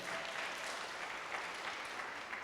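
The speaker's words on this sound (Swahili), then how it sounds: "Sipigie Yesu makofi mazuri" A church congregation claps together in steady, dense applause that carries on evenly throughout, moderately distant and without talk.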